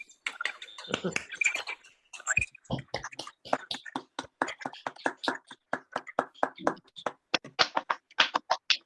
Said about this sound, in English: let's once more unmute and applaud all of us